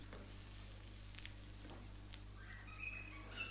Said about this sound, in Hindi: दूसरी साइड हमारा पराठा जो है अभी सिकना बाकी है